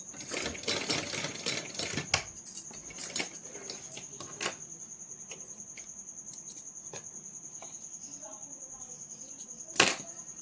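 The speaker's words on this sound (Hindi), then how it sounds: "हल्का सा यहाँ थोड़ी सी सिलाई लगा लेंगे ताकि हमारा कपड़ा अच्छे से लॉक हो जाए" A sewing machine stitches cotton-like fabric for a small Laddu Gopal dhoti, with quick, close bursts of rattling stitching for the first few seconds, then a steady quiet hum and one more short burst near the end.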